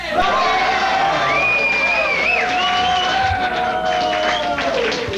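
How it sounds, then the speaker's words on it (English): A loud, lively 1983 television talk-show studio audience cheering and clapping, with whoops and shouting layered over continuous applause. "Boy, this is a vigorous crowd"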